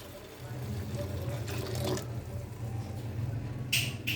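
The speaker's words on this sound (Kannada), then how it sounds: "ಸೋದಿಸ್ಕೊಂಡಿರ್ತಕ್ಕಂಥ ನೀರನ್ನು ಸ್ಟವ್ ಮೇಲೆ ಇಟ್ಕೊಂಡಿದ್ದೀನಲ್ಲ ಆ ಪಾತ್ರೆಗೆ ಮತ್ತೆ ಟ್ರಾನ್ಸ್ಫರ್ ಮಾಡ್ಕೊತಾ ಇದ್ದೀನಿ" Previously boiled water poured from one vessel into a pot on the stove while making sweet chapati chakkoli, a steady, faint gushing wash with a slight swell near the end.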